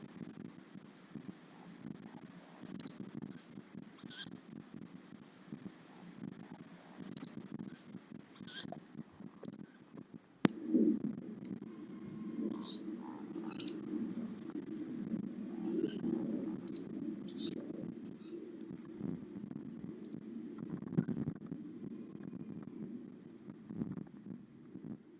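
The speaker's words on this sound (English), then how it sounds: "Here we are with my first attempt at trying to capture the call of a woodcock." Faint woodcock calls sound at scattered intervals from a distance at dusk in County Durham, with a tawny owl calling in the background over a low, steady rumble of ambient noise.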